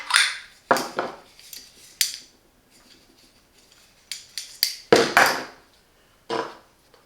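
Metal parts of a BEEM espresso machine, the portafilter and accessories, are handled and set down in a series of sharp, close clinks and clatters, irregularly spaced with brief quiet gaps.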